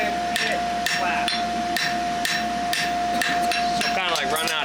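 A farrier hammers a horseshoe branch on an anvil to taper it, with about eight sharp, evenly spaced metallic blows over a steady high ringing tone, close and loud.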